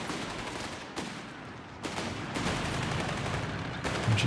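Dense, continuous machine gun fire from a battle in Company of Heroes 3 rolls on without a break, with a few sharper bursts cutting through the steady roar of shots.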